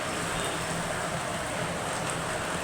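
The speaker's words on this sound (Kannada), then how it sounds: "ತುಂಬ ಮಳೆ ಬರ್ತಿದೆ ನಮ್ಮ ಕಡೆ ಇವತ್ತು, ಹಾಗಾಗಿ ಸೌಂಡ್ ಬರ್ತಾ ಇದೆ, ಮಳೆ ಸೌಂಡು" Heavy rain pours as a dense, steady hiss throughout, with no pauses and no voices.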